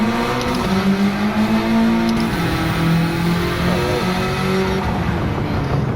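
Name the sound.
Honda Civic Type R FK2 driving on race track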